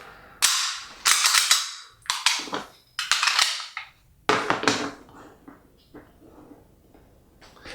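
A Sig Sauer P226R pistol gets a safety check: sharp metallic clacks of the slide being racked several times, loud and close, then quieter handling clicks.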